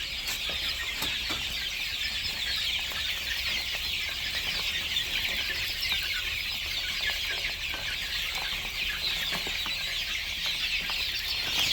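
Young chicks for sale chirp in a dense, continuous chorus that runs the whole time at steady loudness, with no talk over it.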